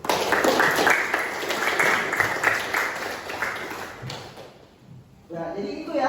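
Classroom of students clapping together, a sustained bright patter of many hands for several seconds that fades out, followed by a voice speaking.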